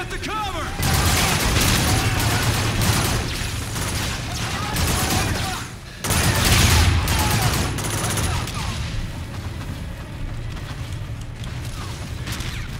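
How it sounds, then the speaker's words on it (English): Anti-aircraft guns in Call of Duty Infinite Warfare, during a crash on Mars, fire long, loud, continuous barrages with a short break midway and then fade to a quieter rumble. "AA guns are cutting us up."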